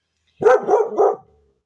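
Dogs in a house on a street let out a short burst of three quick, loud barks close by, then fall silent.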